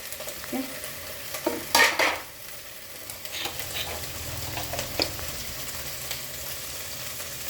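Vegetables browning in a non-stick pan with a little ghee, a soft steady sizzle broken by a few louder stirring scrapes near the start, then settling into a quieter hiss.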